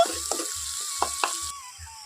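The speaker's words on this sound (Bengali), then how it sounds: "এখন ভালো করে মশলাটাকে একটু কষিয়ে নেব" Spice masala paste sizzling and being stirred in a pan while cooking aloo paneer: a continuous close fry hiss with soft spoon scrapes and small taps throughout.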